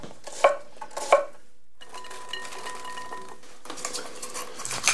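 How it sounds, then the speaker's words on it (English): Onion and garlic tossed into a pan with tomatoes, giving a couple of sharp clinks and knocks against the cookware followed by a steady, soft sizzle and stirring rattle, with no talk. "I'll simply toss in some onion and garlic"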